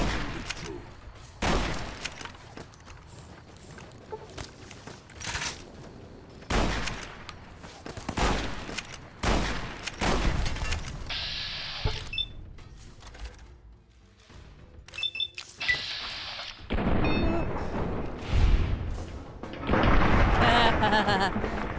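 Repeated brush gun shots ring out in Fallout New Vegas, each one a heavy, loud boom with gaps between shots. A voice talks between some of the shots.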